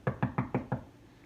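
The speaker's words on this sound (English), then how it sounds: "he knocked on my new office door" Five quick, evenly spaced knocks on an office door, close and crisp, with no voices.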